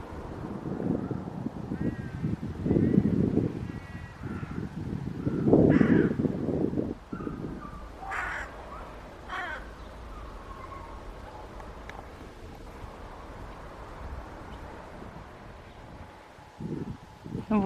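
A crow caws on a snowy morning, sharp, hoarse calls in short bursts rising over a soft bed of wind and rustling, with some low muffled bumps earlier and a few quieter caws later.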